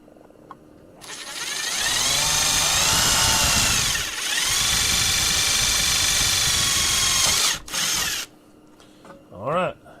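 Power drill whirring steadily for several seconds, then briefly dipping and revving again before stopping, close and loud, with shavings dropping into a catch-all box.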